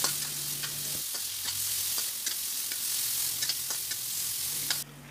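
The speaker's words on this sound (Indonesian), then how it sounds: "bumbunya kita goreng terlebih dahulu hingga harum" Ground spice paste for spicy chicken cireng fries in a pan with a steady, close sizzle, punctuated by light stirring scrapes. The sizzle thins out near the end.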